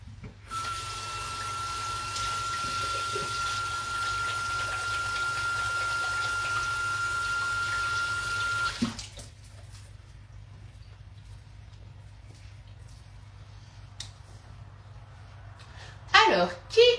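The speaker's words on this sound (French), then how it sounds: "Je me lave les mains et je suis à vous." A tap runs steadily at close range for about nine seconds while hands are washed, then shuts off, leaving a quieter room with a brief clatter near the end.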